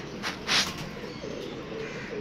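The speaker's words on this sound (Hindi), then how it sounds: "ये है जी माशाल्लाह कबूतर" Pigeons, prized Teddy breeding pairs, coo softly from close by in a repeated low rolling rhythm, with a couple of faint wing or rustle bursts near the start.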